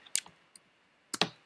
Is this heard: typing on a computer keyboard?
yes